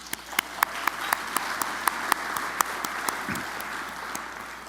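An audience at an energy summit applauds steadily, a dense wash of clapping with a few sharper nearby claps standing out, heard alone without talk.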